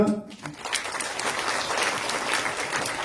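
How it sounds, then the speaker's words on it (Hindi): A satsang gathering in Ghaziabad breaks into hearty applause. A brief voice opens, then dense, even clapping from the crowd carries on for a few seconds. "तो एक बार इनके लिए जोरदार तालियां"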